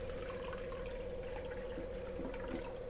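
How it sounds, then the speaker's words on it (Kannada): Water pours steadily into a pot for a sugar syrup, a continuous close splashing stream with no talk. "3 ಕಪ್ಪು ನಾನಿಲ್ಲಿ ನೀರು ಹಾಕ್ತಾಯಿದ್ದೀನಿ."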